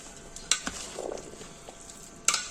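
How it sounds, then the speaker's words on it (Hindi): Aloo chana chaat being mixed in a large tray, with soft scraping and stirring plus a few sharp clinks of utensil against metal, close and fairly quiet. "मिक्सिंग के लिए मैं एक बड़ा सा परात लेता हूँ, उसमें मिक्स करता हूँ।"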